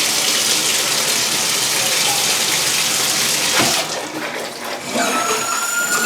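A new, large shower head with a built-in filter sprays water in a steady, loud rushing hiss that briefly dips and shifts in texture partway through, with no talking.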